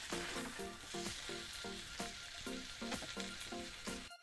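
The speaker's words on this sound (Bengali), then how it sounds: "নেড়ে ভেজে নেব" Chopped tomato and spices stir-fry in a pan for a mushroom masala curry. A constant loud sizzle runs underneath rhythmic spatula scrapes about twice a second, heard up close.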